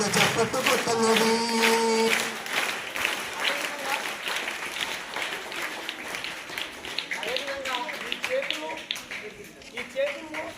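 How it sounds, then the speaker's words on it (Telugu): An audience claps loudly at a Teachers' Day gathering, a dense wash of hand claps running the whole stretch with voices and tonal sounds mixed in, fading slightly toward the end. "గట్టిగా చప్పట్లు కొట్టన్నవి"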